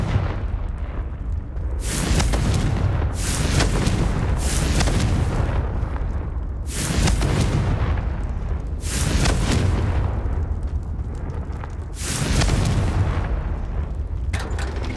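Confringo fire spell blasts in Hogwarts Legacy gameplay, a series of loud, booming explosive bursts recurring roughly every two to three seconds, each with a rushing fiery tail.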